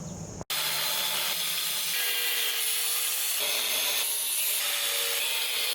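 Metal stock being cut for the legs and mounting of a homemade budget 2x72 belt sander, a steady loud grinding cut that runs continuously for several seconds with a faint ringing whine, no talking.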